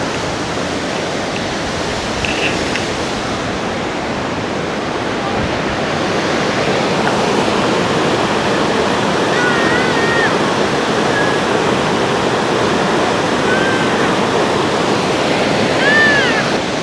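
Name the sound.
strong rushing waterfall current in Yosemite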